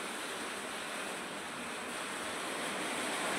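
Steady heavy rain and gusting wind roar across open farmland in a village, a dense continuous wash of noise with no break, fairly loud and close, no voices.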